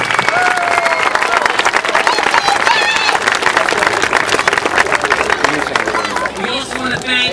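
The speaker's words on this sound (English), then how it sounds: "let's have another big round of applause for all the parents, all the coaches, all the Little Leaguers, and all our volunteers" A crowd at a Little League opening day in Babylon, Suffolk County, applauds and cheers outdoors, with sustained loud clapping, whoops and children's shouts throughout, and people chattering in the mix.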